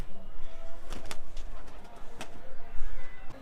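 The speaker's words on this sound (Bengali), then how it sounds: "এই পায়রাটা খুবই ভালো পায়রা আমাদের সব থেকে পছন্দের একটা পায়রা" A pigeon coos softly in short, low murmurs against a quiet outdoor background, with a few sharp clicks and faint rustling in between.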